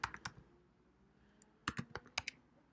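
Someone types briefly on a computer keyboard. Quiet clusters of quick key clicks come in two short bursts separated by a pause.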